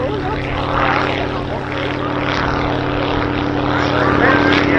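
A propeller airplane flown by a female pilot drones loudly and continuously overhead at the RAF Cosford airshow, a steady engine roar with a slight rise and fall as it passes.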